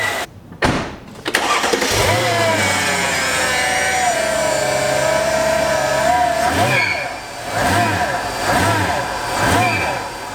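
A Mercedes-Benz engine starts abruptly and settles into a steady, loud idle, then revs in several rhythmic surges, close by.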